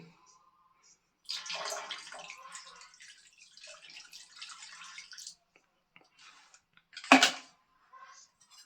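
Huoxiang Zhengqi liquid is poured from a small bottle into an opened bathroom drain, making a soft trickle and splashes for a few seconds, followed by one sharp clatter.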